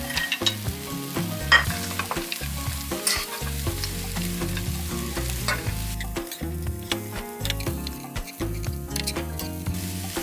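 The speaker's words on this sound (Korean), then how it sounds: "송송 썰어놓은 청양고추를 넣고 더 버무려 줍니다." Small dried anchovies stir-fried with finely chopped Cheongyang chili peppers are tossed and stirred in a hot pan, with constant close sizzling and frying under frequent scraping and clattering of the spatula.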